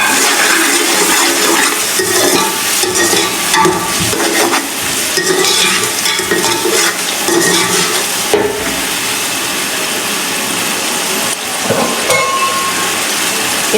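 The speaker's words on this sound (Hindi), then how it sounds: "तो अच्छी तरह से भून लेंगे।" Spices, tomatoes and green chillies frying and being stirred in a pot for a beef pulao, a steady loud sizzle with scraping and clatter running throughout, no talk.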